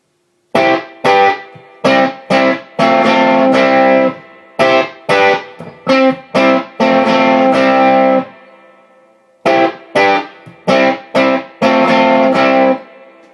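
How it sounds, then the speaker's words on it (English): Bursts of heavily distorted electric guitar chords through a tube distortion pedal with a Sylvania tube, played in short stabs and longer held strums, loud and compressed, with brief pauses between phrases. "It's a quiet, tight distortion."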